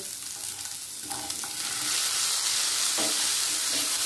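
Cauliflower going into a hot pan of frying carrots, cashews and raisins. A few spoon scrapes come over a soft sizzle, then the frying swells into a louder, fuller hiss that keeps going, with a couple more stirs; no voices.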